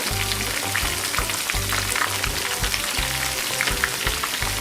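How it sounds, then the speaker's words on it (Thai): Pork knuckle frying in hot oil sizzles steadily with a dense, loud crackle, accompanied by a low rhythmic pulsing hum underneath, no voices present. "เราจะทอดให้พอหนังตึงๆนะคะ"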